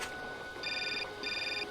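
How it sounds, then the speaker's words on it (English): A phone rings in the video game Syberia, two short electronic trilling bursts over a low background hum. "Oh, we got a phone call."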